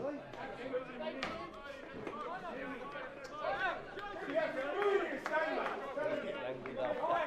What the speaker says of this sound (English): Home crowd not very happy with that decision